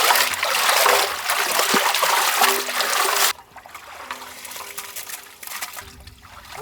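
Chicken feet being washed by hand in water in a village kitchen: loud continuous splashing and sloshing for the first half, then a quieter trickle and dribble of water afterward.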